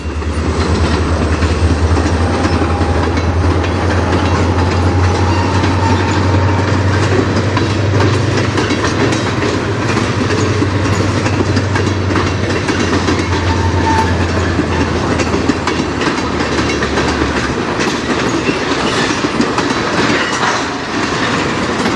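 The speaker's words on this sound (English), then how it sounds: "it's the local CSX train. Normally it's got 2 locomotives, but one of them is broken down" A CSX local freight train on the Strathroy Subdivision, running with one of its two locomotives broken down, rolls past close and loud with steady wheel clatter and a low engine drone throughout.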